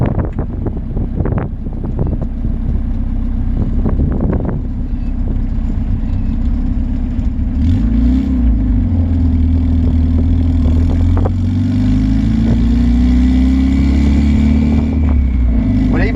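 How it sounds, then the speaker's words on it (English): A tuned Honda car breaks its Toyo R888R tires loose, engine revving and rising in pitch over heavy wind buffeting, loud and close, with a voice briefly audible. "But even though it did break the tires loose, it's moving."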